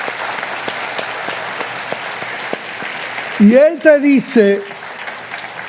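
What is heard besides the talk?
congregation applause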